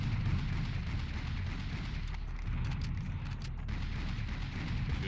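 Gunfire and explosions from the first-person shooter game Serious Sam HD: The First Encounter form a dense, continuous rumbling barrage of shots and blasts, loud and unbroken throughout, with no speech.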